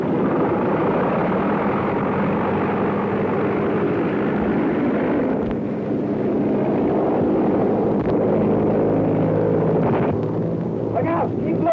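An airplane engine in a 1932 adventure serial drones loudly and steadily throughout, a dense continuous roar with voices calling out over it.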